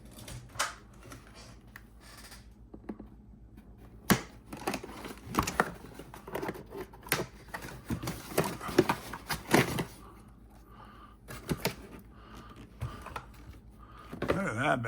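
Scissors snipping and plastic packaging crinkling while a pink Redcat Ascent 18 RC truck is being unboxed, with irregular close cuts, rustles and clatters that come and go, and some speech in between.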